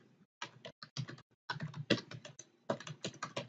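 Code being typed on a computer keyboard produces crisp, close key clicks in quick irregular runs, broken by short pauses, with no voices over them.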